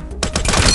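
A quick burst of gunfire in the mobile shooter Killstreak.tv, loud and close, starting abruptly after a short quiet moment and rattling on for under a second.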